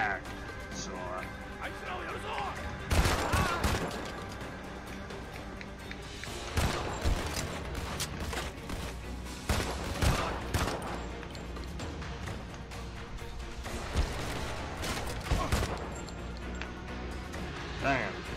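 Gunfire in the PC game Modern Combat 5, several loud bursts of shots spaced through a busy battle mix with a voice talking over it.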